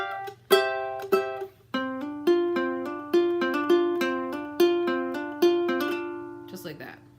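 Ukulele picks out a song's intro riff with hammer-ons high on the neck, a run of bright plucked notes in a steady bouncing rhythm, close and clear over a low background hum.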